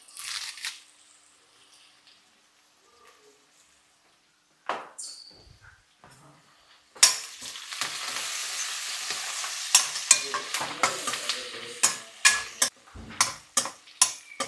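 Brinjal fries in a pan with turmeric and curry leaves, a steady sizzle that grows louder midway, with sharp stirring scrapes and clinks near the end; quiet stretches come first, and nobody speaks.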